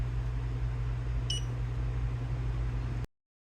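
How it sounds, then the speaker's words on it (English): Buzzer on an ESP32 display board driven from pin IO17 gives one short, clear electronic beep over a steady low hum before the sound cuts off. "Press any of the LVGL buttons to hear the buzzer connected to pin IO17 beep"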